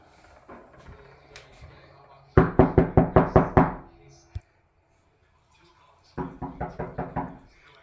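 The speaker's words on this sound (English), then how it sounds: "There's a knock on the door." Knuckles rap on a door in two bursts of rapid knocks, about seven sharp, loud blows and then about five slightly softer ones, with faint quieter taps before them and a gap between the bursts.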